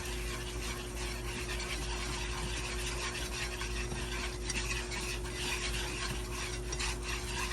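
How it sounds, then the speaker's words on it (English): Pork chop gravy thickened with flour and seasoned with salt and pepper is stirred in a pan, giving a steady, continuous scraping and rubbing sound with a low background hum and no talk. "Let's stir this up."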